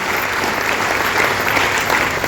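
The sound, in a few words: audience applause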